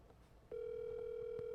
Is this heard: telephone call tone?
yes